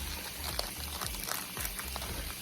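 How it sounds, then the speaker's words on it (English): Tap water running steadily over a package of frozen Beyond Beef plant-based ground meat, a continuous splashing, pouring flow with low rumbling underneath, close and fairly quiet, no voices. "I got the Beyond Beef running in some water because it's frozen."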